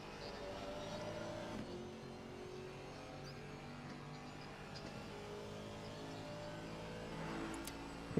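A GT4 race car engine drones steadily through a Silverstone race in a video game, holding a sustained rev with gear-change dips near the start and a rising surge toward the end, with no talk over it.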